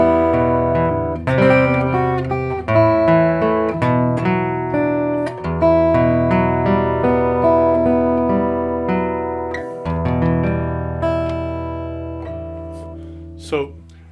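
A guitar plays the second ending of The Angel Gabriel, a steady run of plucked notes and ringing chords that sustain and decay, ending with a brief bright slide at the close; no voices.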